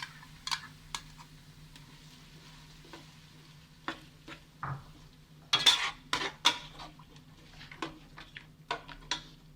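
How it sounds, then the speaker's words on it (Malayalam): Tomato puree being mixed into prawn biryani in a pot, with intermittent scraping and clinking of a spoon against the metal, soft sizzling beneath, and irregular close stirring strokes, no talking. "ഇനി ഇതിലേക്ക് ടൊമാറ്റോ പ്യൂരി ചേർത്ത് കൊടുക്കാം."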